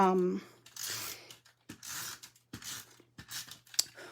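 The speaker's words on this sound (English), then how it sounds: "my dog she just got her bone, so if you hear any kind of crunching sound in the background, that's what that is." A dog crunching on a bone nearby, producing bursts of crisp gnawing and cracking with pauses between them, with a voice briefly heard at the start.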